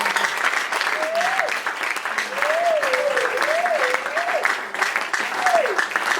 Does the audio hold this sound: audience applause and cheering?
yes